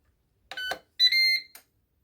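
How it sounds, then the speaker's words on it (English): Short electronic start jingle from a Ninja Speedi cooker: three bright, clean tonal beeps in a quick rising-and-falling pattern, heard close and alone in an otherwise quiet kitchen. "There's the little Ninja Speedi ringtone jingle."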